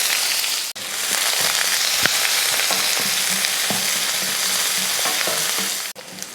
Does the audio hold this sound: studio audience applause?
no